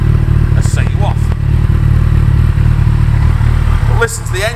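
A Kawasaki ZZR1400 Performance Sport motorcycle engine runs close by with a loud, steady low rumble that holds nearly level throughout, dipping slightly near the end, where a brief voice comes in.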